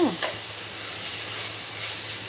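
Ground coriander and cumin powder are stirred in a hot frying pan for an egg and ridge gourd curry, giving a steady soft sizzle with a quick scrape at the start, close and alone.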